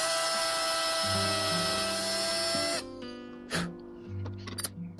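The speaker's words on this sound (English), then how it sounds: "Now I'm drilling for the hardware." A high-pitched power drill whines steadily for a few seconds while drilling hardware holes in a small wooden swimbait lure, then cuts off, leaving brief bumps and quieter mechanical noise.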